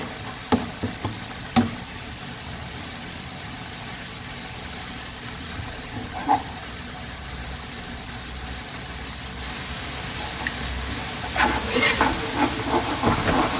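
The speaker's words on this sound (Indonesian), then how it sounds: "Nah kita tumis ya, tumisnya bumbu itu sampai mateng ya" Spice paste sautéing in oil in a pan for an Indonesian stir-fried vegetable dish, a low steady frying hiss with scattered spoon scrapes and clinks, louder stirring bursts near the start and end.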